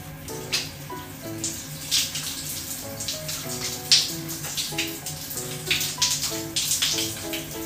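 Tap water running into a bathroom basin for rinsing, a steady splashing stream with irregular drips and clinks, moderately close, without talk.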